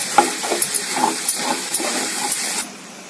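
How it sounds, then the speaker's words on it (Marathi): A spatula scrapes and stirs methi leafy vegetable fry in a pan, making soft rhythmic scraping taps over a steady sizzle that cuts off abruptly near the end. "आणि छान त्याला हलवून घेऊया."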